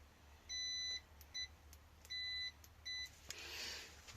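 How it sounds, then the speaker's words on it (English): A multimeter set to continuity, used to test a Suzuki Burgman 650 headlight switch, gives four electronic beeps in two pairs, one long and one short each, clear and close over faint background noise. "Should make a bleep."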